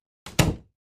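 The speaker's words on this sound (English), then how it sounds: "I heard the front door open and close." A front door closing, a single close thud with a short rattle just before it, alone against silence.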